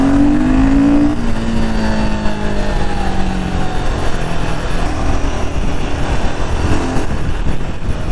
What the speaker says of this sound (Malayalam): ഞാനിപ്പോൾ കൈ ഒന്ന് പയ്യെ കൊടുത്തു കഴിഞ്ഞാൽ വണ്ടി ഇത് കണ്ടോ ശരിക്കും ചാടും